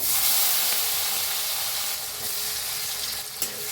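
Spices and chopped tomato fry in hot oil for masala brinjal, a loud continuous sizzle and hiss close up that eases slightly partway, with a brief clink of stirring near the end.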